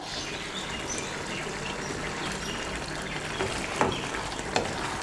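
Bottle gourd and poppy seed curry with green chilies is stirred in a pan. A low bubbling simmer runs throughout, with a couple of spoon knocks near the end.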